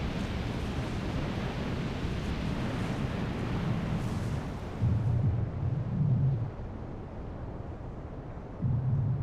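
Erupting magma meets water, producing a loud, continuous roaring rumble with heavy low booming surges that swell repeatedly toward the end, with no voices.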